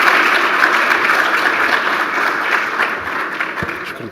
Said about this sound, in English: a big round of applause to our moderator, His Highness Sayyid Adham, and to the panelists